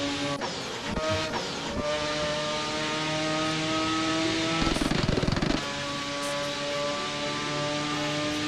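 Mazda RX-7 engine in the Assetto Corsa racing game, a steady sustained drone with shifting pitch, a brief rougher burst near the middle, no voices.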